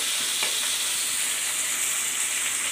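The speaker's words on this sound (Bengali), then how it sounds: "ডাটাগুলো একটু ভেজে নেব, তাহলে খেতে খুব সুন্দর লাগবে।" Vegetable stalks fry in a pan with a loud, continuous hissing sizzle and occasional stirring.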